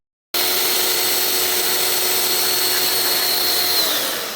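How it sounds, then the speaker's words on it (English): A power drill switched to hammer mode runs in a workshop to pop a beer bottle cap, a loud steady whirring rattle that starts abruptly and continues unbroken, with no one talking. "And switch it to hammer mode, because we're not here to mess around."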